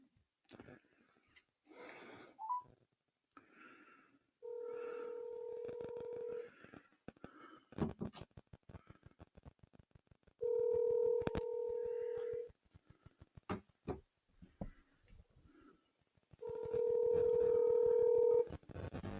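A phone number is dialed on a telephone, with three clusters of steady DTMF keypad tones in separate bursts, separated by faint breathing and small handling noises.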